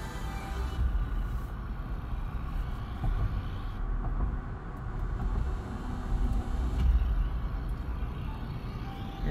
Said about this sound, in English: Wind noise and tire noise, really, that we're dealing with here in the Wrangler Rubicon.